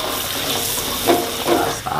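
Papaya stems stir-fried in a pan sizzle and hiss steadily, loud and close, with a few brief scraping stirs and no talking.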